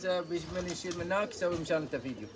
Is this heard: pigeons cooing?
yes